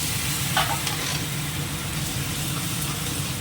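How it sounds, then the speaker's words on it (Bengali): Spice masala with turmeric is stir-fried in a pan, giving a steady close sizzle with a brief spatula scrape early on and a faint low rumble underneath. "এবার মশলাটাকে একটুখানি কষিয়ে নেব"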